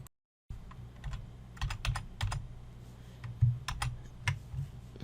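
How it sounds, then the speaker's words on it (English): Arrow keys tapped on a computer keyboard, a scattered series of sharp, close clicks in short bursts after a brief silence, over a low steady hum. "And nudge it around with your arrow keys."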